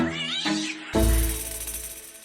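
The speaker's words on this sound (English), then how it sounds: "it was completely wiped out by this furry little cat" A small furry cat meows twice, the second call louder and more drawn out, close up and alone with no talking.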